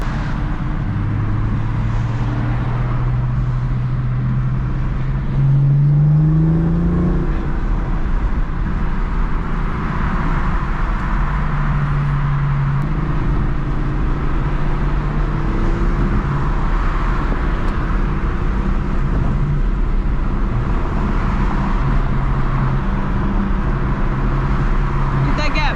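A 2018 BMW M4 drives along with a loud, steady engine and exhaust drone under the cabin, its pitch rising and falling through gear changes, while people talk over it throughout.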